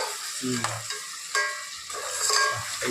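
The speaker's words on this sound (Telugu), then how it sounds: "ఈ అల్లం అంతా ఏగుతుంది ఇట్లా నూనెలో" Ginger frying in oil with ghee for an old-style chicken biryani, a steady close sizzle broken by scraping stirs with a metal spoon, with no talking.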